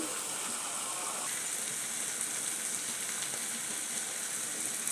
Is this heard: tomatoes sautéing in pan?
yes